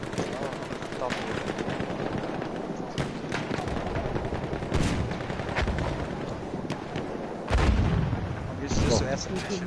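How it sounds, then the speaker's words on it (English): Mortar fire and battle noise in the first-person shooter Battlefield 1, a steady din of booms, gunfire and explosions with a louder blast near the end, while a commentator talks over it. "Diablo playing with the Mortar."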